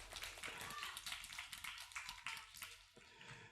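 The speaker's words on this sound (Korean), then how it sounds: "자, 박수 한번 쳐주세요." Children in a church service clap together in a dense, continuous burst of applause that lasts throughout, fairly loud and close, with a voice faintly mixed in.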